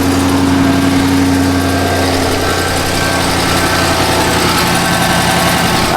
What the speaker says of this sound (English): I can't tell if that's an exhaust leak.